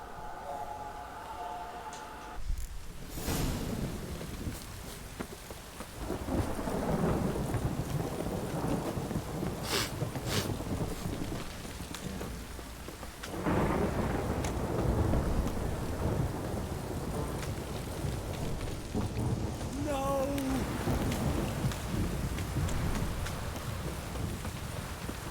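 Steady rain with rolling thunder in the video game The Witcher 3, a continuous loud wash of downpour broken by deep rumbles, with brief game voices and effects rising over it.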